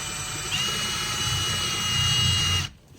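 A power drill with a good-quality bit whines steadily for a couple of seconds, its pitch holding high, then cuts off abruptly.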